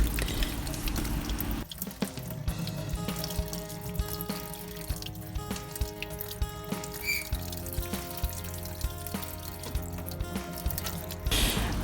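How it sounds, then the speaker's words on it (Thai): Cactus seeds are rinsed clean of mucilage in water. Steady trickling, dripping and splashing run throughout under a constant hum, with small irregular plinks and a brief louder burst near the end. "เป็นการทำความสะอาดเมล็ดนะครับ แบบนี้นะครับ ซึ่งขั้นตอนการล้างเนี่ยไม่ยากเลยนะครับ"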